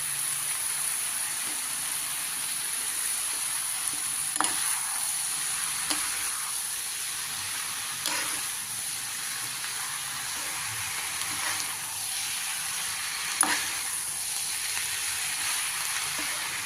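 Vegetables added to a hot pan sizzle in a steady, bright hiss that runs throughout, with a few sharper crackles and pops every couple of seconds, close and even with no talking.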